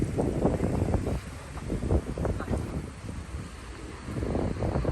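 Gusty wind buffets the microphone in low rumbling bursts, steady and close, with a faint wash of water in the background.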